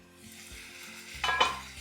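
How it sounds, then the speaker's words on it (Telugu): Small pieces of pepper chicken fry in oil with a soft steady sizzle, followed by a couple of brief scraping stirs in the pan, close and fairly quiet. "ఇలా చికెన్ కాస్త నూనెలో వేగిన తర్వాత"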